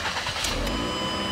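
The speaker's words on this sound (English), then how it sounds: "Start the car up" A 2008 Ford Escape engine turns over and catches, a brief broadband mechanical roar with a steady low hum underneath, close by.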